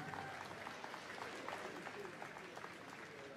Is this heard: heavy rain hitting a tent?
no